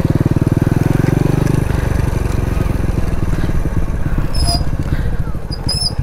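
A small Honda scooter-type motorcycle engine idles and revs close by, a steady low pulsing putter with a faint whine, while people talk quietly in the background.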